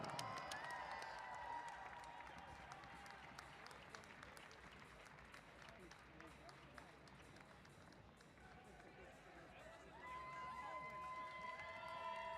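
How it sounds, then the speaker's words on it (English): Applause and cheering from an event crowd greet the winner of a Saturday night rumble competition, a steady wash of clapping with a swell near the end and a voice talking over it throughout. "Round of applause."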